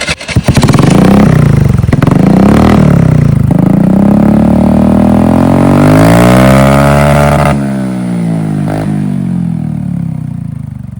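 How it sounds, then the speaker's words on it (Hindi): A TVS Jupiter scooter fitted with an aftermarket SC Project exhaust starts up and revs hard, the loud, close exhaust note rising and falling in pitch through several throttle blips before settling toward idle. "तो गाइस ये अपना साउंड है SC प्रोजेक्ट एग्जॉस्ट का।"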